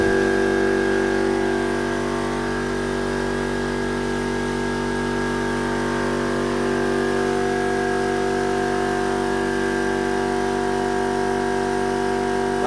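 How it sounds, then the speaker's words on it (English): An air compressor on a Eurocarts hot dog cart runs continuously with a steady mechanical drone and constant tonal hum, close and fairly loud throughout. "The air compressor going off."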